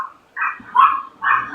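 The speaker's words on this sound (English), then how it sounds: "so I'm sorry my dogs are barking." Dogs bark indoors in three quick, loud, close barks spaced evenly over about a second and a half, with nothing else heard around them.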